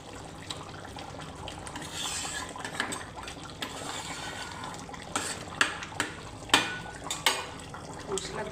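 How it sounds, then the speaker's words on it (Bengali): A spoon stirring chicken curry in a metal pot after spices go in, close scraping with sharp clanks against the pot that grow more distinct toward the end, over a soft background hiss. "মশলা দিয়ে মিশিয়ে নিলাম।"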